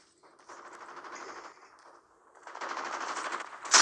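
Automatic gunfire in a Call of Duty match: two sustained bursts of rapid machine-gun shots, the second louder and denser, closing with a sharp close-range blast.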